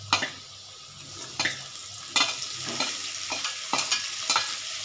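Sliced onions frying in a pan with potatoes, a steady sizzle broken by repeated scraping stirs at irregular intervals, close and fairly loud with no talking.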